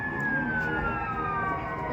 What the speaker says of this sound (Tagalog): Oh, ambulansya.